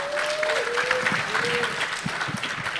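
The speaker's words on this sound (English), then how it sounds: "A big round of applause." Audience applause fills a conference hall at a forum on displacement, steady dense clapping from a large crowd throughout, with a faint sustained tone drifting over it.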